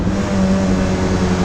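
A 1988 Toyota MR2 engine holds a loud, steady drone from inside the cabin during a rev-matched downshift, with no voices over it.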